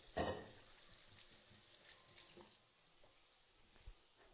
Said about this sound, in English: let me get this out of the way, rinse my hands